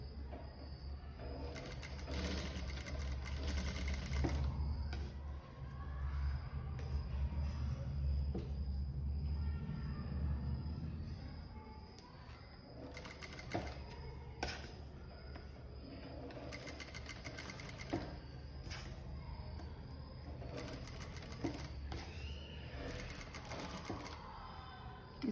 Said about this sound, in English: Now fold it again and give a stitch.